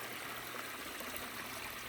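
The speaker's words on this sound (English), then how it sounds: "We even got waterfalls." Small waterfall in a DIY stream feeding a large backyard pond, a steady close rush and trickle of water spilling over rocks, continuous and fairly loud with no voices.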